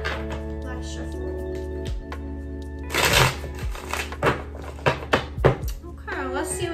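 Tarot cards being shuffled by hand, papery riffling and tapping bursts in a rough rhythm, close and fairly loud over a steady musical background drone.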